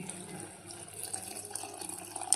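Boiled and cooled milk pours into a cooking pot for a sweet potato and sago payasam, a steady liquid splashing and trickling sound heard close up with no talk.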